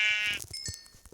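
Sheep in the Minecraft video game giving one wavering, nasal bleat, loud and close, followed by a short trail of quieter game sounds.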